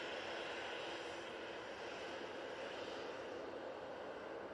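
A jet aircraft departing Manchester Airport gives a continuous, fairly distant engine roar, even and sustained throughout, with no voices over it.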